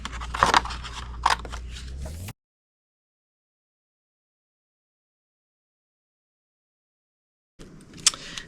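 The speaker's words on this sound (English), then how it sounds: "I'm going to fussy cut out my pumpkin." Scissors fussy cut a paper pumpkin shape in a few short, close crisp snips, followed by a long silent gap and one more brief snip at the end.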